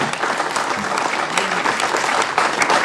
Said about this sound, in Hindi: तालियों में कंजूसी मत करो यार प्लीज